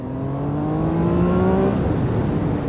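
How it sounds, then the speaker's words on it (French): Triumph Trident 800 motorcycle engine pulling hard under acceleration, its rising harmonic whine climbing steadily up close and loud, then easing as the revs settle. "C'est incroyable les reprises que ce moteur il offre."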